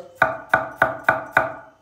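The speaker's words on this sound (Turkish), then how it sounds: "Havuçları çok ince doğramayacağız." Five evenly spaced knife chops through carrots on a cutting board, crisp and close, each a sharp thud with a short ring.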